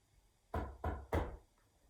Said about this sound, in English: There was a gentle knock on the door.